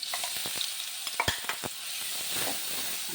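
A coarsely pulsed ground mixture for Kerala rice-flour vada sautés in a pan, a soft continuous sizzle broken by a flurry of close spatula scrapes and taps on the pan.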